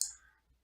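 A single sharp mouse click on a Yes button while working in EndNote reference software, close and crisp, followed by a faint softer click in quiet surroundings.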